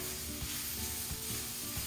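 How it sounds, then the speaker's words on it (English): An egg and Swiss chard leaves fry in a pan, giving a steady, close sizzle with faint stirring scrapes and no talking. "I've also got an egg over here frying that I'm just going to finish up"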